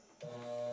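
A walking foot sewing machine starts stitching automotive upholstery, a short steady motor whir that rises after a quiet moment, close and alone.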